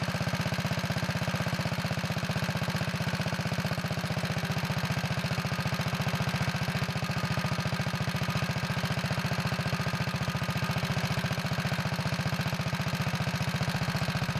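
Kohler engine on a Wheel Horse 401 garden tractor idling during carburetor adjustment, a loud, close, steady low chugging drone with an even rhythmic pulse throughout.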